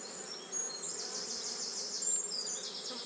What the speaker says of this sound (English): So yeah, I think I'll just leave these bees to it.